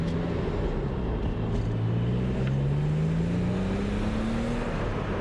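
A BMW Z3 M Coupe with long gearing pulls steadily under acceleration from inside the cabin, its engine tone rising smoothly and continuously over road and wind roar, with no speech.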